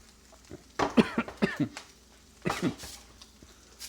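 Coughing set off by pungent fumes while cooking butter garlic shrimp, a close burst of four or five quick coughs followed by a shorter pair of harsh coughs after a brief pause, fairly loud against a quiet kitchen background.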